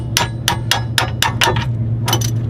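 A hammer strikes the CV axle of a Mazda RX7 repeatedly at close range, eight or so sharp metallic blows in an irregular rhythm over a low steady hum, with no talking.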